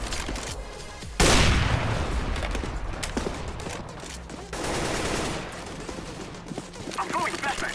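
Video game combat: a loud grenade blast erupts after a second, followed by bursts of rapid gunfire and scattered shots, with players talking over the action.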